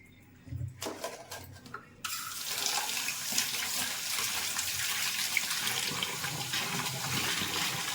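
Hot water is strained off soybeans in a kitchen. After a few soft clatters, a steady stream of water pours and splashes continuously, close and moderately loud, with no voices.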